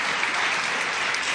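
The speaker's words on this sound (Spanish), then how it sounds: "¿Pueden darle un aplauso al Señor?" A church congregation claps steadily, a dense wash of applause filling the whole short moment without any voices.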